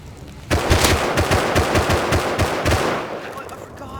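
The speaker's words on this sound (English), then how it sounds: "You can't run past the shotgun trap, buddy." Loud rapid gunfire from a shotgun trap in the game Rust, a dense burst of repeated blasts starting abruptly and continuing for a few seconds before fading into ringing.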